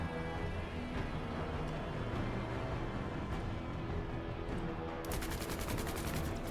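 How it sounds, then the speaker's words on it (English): A light machine gun fires in the video game Menace, a dense continuous fusillade of rapid gunshots at steady loudness with a sharper burst near the end. "we're just going to open up on them with the light machine gun"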